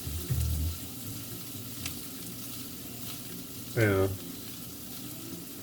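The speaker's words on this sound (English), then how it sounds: "So these are meat and vegetables. Saute them, add that in." Meat and vegetables sautéing in a pan for yakisoba, a continuous soft sizzle heard close under a short spoken word, with a brief low voice sound partway through.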